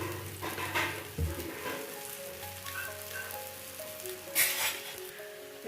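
Raw banana slices shallow frying in a little oil on a tawa give a soft, steady sizzle with a faint, rain-like hiss, broken by a few brief clatters and scrapes as the slices are handled.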